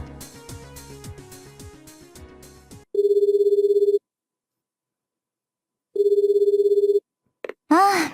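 Telephone ringing in the visual novel game Dies irae: two one-second electronic rings separated by silence, following a stretch of music and ending in a brief burst of other sound.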